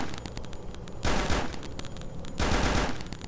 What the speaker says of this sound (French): C'est sympa, on entend les balles retomber au sol.